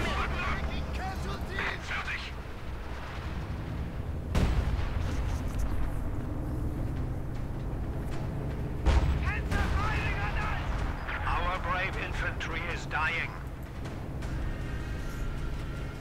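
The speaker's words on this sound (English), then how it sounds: "Ferdinand's going to fire another shot." Ferdinand tank destroyer firing its heavy gun in a Company of Heroes 2 multiplayer match. Two sharp, booming shots punctuate ongoing commentary, with battle rumble underneath.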